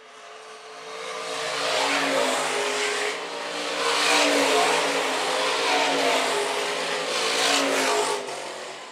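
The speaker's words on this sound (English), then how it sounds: "Laps winding down here for the IMCA stock cars." IMCA stock cars roar steadily around a dirt oval raceway, engines loud and continuous with surging revs as the pack passes, no talk over it.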